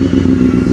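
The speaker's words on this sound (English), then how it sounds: "I'll give you a few revs, shall I?" A motorcycle engine runs loud and close, a steady rumbling drone with slight fluctuations, no voices.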